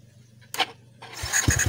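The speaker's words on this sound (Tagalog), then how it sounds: "So start na natin kung gagana ba ang ating push starter. Start." A Yamaha Mio i125 scooter fitted with a converted push starter: a click, a short cranking whir, then the engine catching and idling with a quick pulsing putter.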